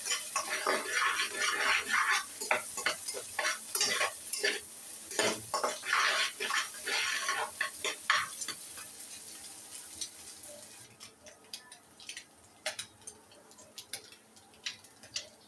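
Egg being stirred in a pan while making noodles, a utensil scraping and clinking against the pan in quick irregular strokes over a light sizzle, busy at first and then thinning out to sparse taps.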